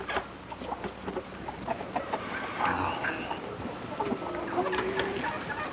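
Chickens clucking and calling close by outdoors, a few scattered short squawks and a longer rooster-like note over soft background noise.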